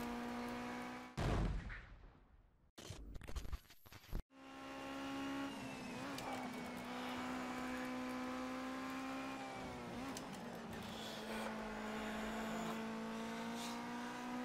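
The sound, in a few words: race cars driving in the video game Project CARS 2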